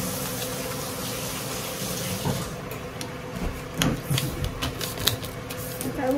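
Paper is folded into a paper airplane, with crisp creases and rustles coming in irregular bursts, close up, over a steady background hiss.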